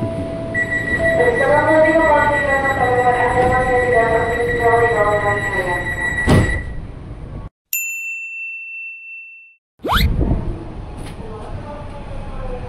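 A KRL commuter train at Kranji station gives a steady rumble, with melodic chime-like tones and a sharp metallic clang, then a brief dropout and more platform noise. No one speaks.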